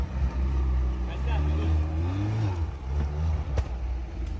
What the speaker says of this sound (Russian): Че он чихает? У него как будто выхлопная забита где-то.